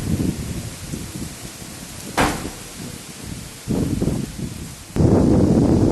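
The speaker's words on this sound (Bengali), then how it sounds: "প্রচুর বাতাস আছে তার সাথে একটু বৃষ্টি আছে" Gusty wind buffets the microphone in loud surges, with a light rustling patter of rain and a sharp knock partway through.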